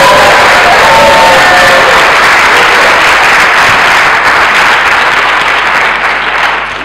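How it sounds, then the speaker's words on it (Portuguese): Loud, dense applause from a conference audience at an entrepreneurship awards event, many hands clapping with cheers and whoops mixed in, sustained throughout before easing slightly at the end. "eu pedia-vos uma grande salva de palmas para a Rita Pires!"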